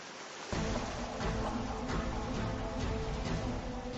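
Wind and ocean waves off a South Pacific coast rush in suddenly after a moment of quiet, then roar on as a continuous broadband wash with surging swells.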